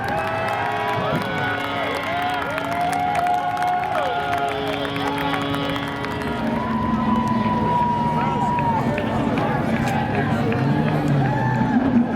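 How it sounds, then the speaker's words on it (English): Crowd at Seekonk Speedway applauds and cheers a Pro Stock race winner, a dense, steady roar of clapping and voices filling the whole stretch while an announcer talks over it. "How about a round of applause for Mike Brightman?"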